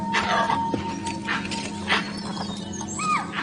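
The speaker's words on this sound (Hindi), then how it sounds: "ये अलार्म कॉल्स मुझे लेकर नहीं दी जा रही।" Animal alarm calls sound in the misty Kabini forest, where dholes, wild dogs, are present. Sharp, squeaky whistles and yips come in short bursts over a steady low background.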